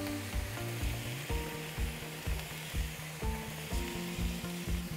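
Bell peppers and asparagus sizzle in a breakfast skillet as a continuous crackling fry, overlaid by a regular, rhythmic series of low mechanical thumps. No one is speaking.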